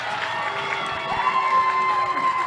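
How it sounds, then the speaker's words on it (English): Spectators at a girls' lacrosse game, Syracuse at Davis, cheering wildly: a sustained roar of shouting and whooping with high children's voices, swelling toward the end. "The crowd's going wild because possession was made by, the Titans, and the Darts are trying to react."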